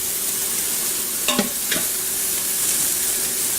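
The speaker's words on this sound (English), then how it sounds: "And then sauteed my hash browns." Hash browns sauté in an Instant Pot with a steady, bright sizzle, broken by a couple of sharp scrapes of a utensil stirring them around.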